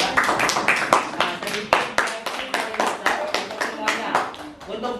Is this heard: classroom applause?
yes